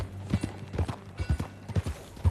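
Horse hooves clip-clop at a steady walking rhythm in Red Dead Redemption 2, close and clear over a low ambient hum.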